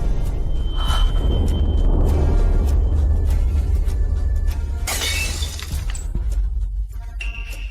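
A glass object shatters partway through during a tense confrontation scene, a sharp burst of breaking followed by a few tinkling fragments, loud over a continuous low background rumble.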